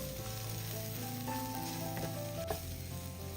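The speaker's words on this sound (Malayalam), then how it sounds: "ഈ സവാളയും കൂടി ഇട്ട് കൊടുക്കുക. ഒന്ന് ഇളക്കി കൊടുക്കുക." Sliced onion stirred into a frying curry mixture for an okra dish, an even close sizzle over a low hum with a couple of faint stirring knocks.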